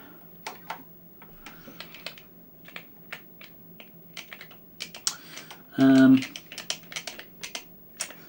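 Keys are pressed on an Amstrad 464 Plus computer keyboard. Irregular, close clicking taps continue throughout, and a short loud electronic beep sounds partway through.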